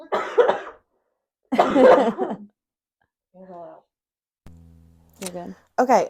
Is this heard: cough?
yes